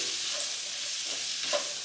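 Curry with vegetables cooks in a pot, a soft, low-level sizzle and bubbling with a faint stir or two, close by and with no talking.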